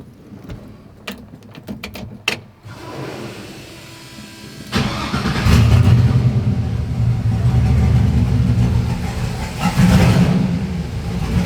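A car engine newly fitted with a Holley Terminator X Max fuel injection system cranks with a few sharp clicks, then catches and settles into a loud, steady running rumble close by.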